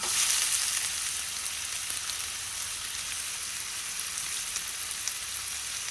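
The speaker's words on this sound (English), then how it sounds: "So the oil has heated up. Now I've got 2 medium-sized onions, which I diced up as small as I can." Two medium onions, finely diced, frying in heated oil, giving a loud, steady close sizzle that stays even throughout with no voices.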